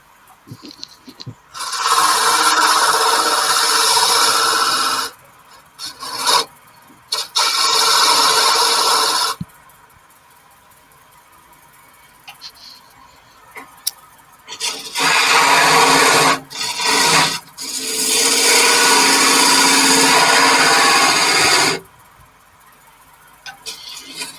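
A wood lathe cuts a spinning workpiece with a chisel in several loud, harsh bursts of rasping and scraping, each lasting a few seconds, with quiet pauses between cuts.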